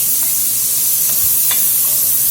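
Vegetables are stirred into a hot braising pot used for beef short ribs, giving a loud, steady sizzle with a few soft scraping stirs.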